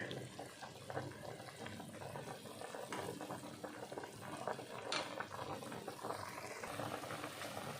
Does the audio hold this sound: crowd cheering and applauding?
no